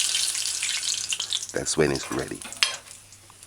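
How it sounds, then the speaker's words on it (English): Fish balls sizzle in hot frying oil with a steady bright hiss, while a person speaks over it and the frying stays audible around the voice. "And as it fries, the sizzling gets less."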